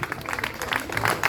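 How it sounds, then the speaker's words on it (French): An audience applauds at a koi show award ceremony in France, a short burst of scattered, moderately loud hand clapping from a crowd. "on peut l'applaudir aussi bien fort"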